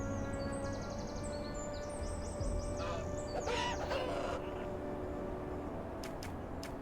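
Harsh, crow-like bird calls in the video game Gothic Remake: a handful of cawing cries come in short bursts over a steady ambient hum, followed by a few sharp clicks near the end.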